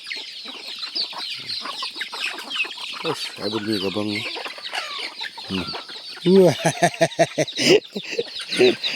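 Farmyard chickens cluck in repeated short bursts at close range, louder toward the end, while someone talks over them.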